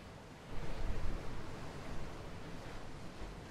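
Gentle sea waves roll in with a low, continuous wash that swells early on and then settles into a steady, faint surf.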